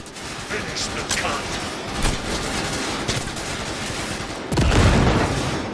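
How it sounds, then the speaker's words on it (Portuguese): Gunfire and a grenade blast from the video game Cyberpunk 2077 during gameplay: steady bursts of shots with sharp transients, then a louder explosive surge near the end, with a voice talking over the action. "ele joga granada, o cara cai morto"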